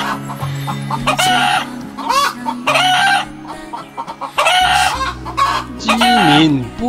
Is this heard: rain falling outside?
no